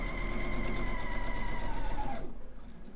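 A sewing machine runs steadily while stitching a seam, giving a close, even mechanical whir that winds down and stops near the end, with no voices.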